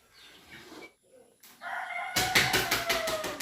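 A rooster crows loudly and close, a drawn-out raspy call following a few quieter rustles and clucks.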